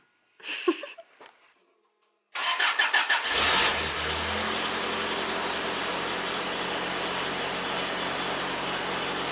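A car engine fires up after an engine swap: a few faint knocks, then rapid cranking that catches with a loud roar and settles into a steady, rumbling idle close by.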